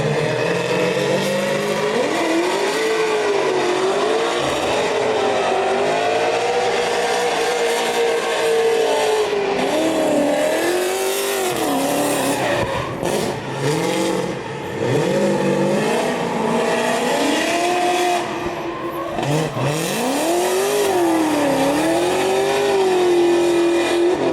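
A Pro Am drift car at a Great Lakes event, its engine screaming and bouncing through rising and falling revs, with tire squeal and skidding, loud and close for over twenty seconds.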